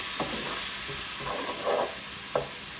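Spices and tomato puree sizzle in a pan for a meat samosa filling, a steady close hiss of frying with a few soft stirring clinks and scrapes.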